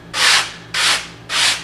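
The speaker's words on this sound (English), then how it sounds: "Kind of sweep it up with the sanding block a little bit." A sanding block rubs along a putting green turf seam in three even, raspy back-and-forth strokes, close and loud, with no voices.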